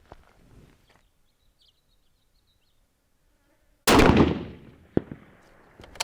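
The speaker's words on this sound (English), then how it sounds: "let's go ahead and shoot the last few rounds here" A rifle fires at an outdoor shooting range. One loud, sharp report comes after near silence and rings out into a decaying echo, followed by fainter clicks and a second smaller crack.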